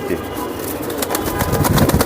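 Giribaj racing pigeons at a loft, soft cooing and fluttering mixed with someone talking close by, the bird sounds rising busier toward the end.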